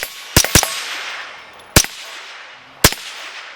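Suppressed rifle shots at a shooting range, fired through a Griffin Armament Checkmate HD suppressor: a quick pair, then two more single cracks spaced about a second apart, each sharp and loud with a short fading tail.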